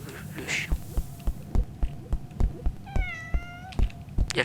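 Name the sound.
cat meowing in Roblox video game Deadly Delivery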